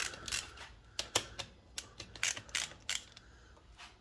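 A wrench loosens a 5/16 bolt on a Mercury 240 EFI outboard with a quick series of sharp ratcheting clicks, close and irregular, with short pauses between bursts.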